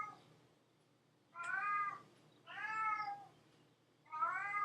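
An indoor cat meows three times in a row, each call drawn out and insistent with short pauses between, close by and fairly quiet, with no talking.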